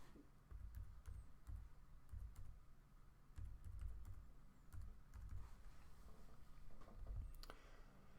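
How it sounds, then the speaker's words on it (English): Someone types an IP address on a computer keyboard, producing quiet, close key clicks in short irregular bursts with soft thuds between them, with no talking. "then I type in the IP address that we found with the ping command"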